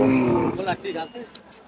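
A cow lows loudly and close at a rainy-day cattle market in Chhatra, Naogaon, where cows are sold with their calves. The single moo fades into quieter market noise.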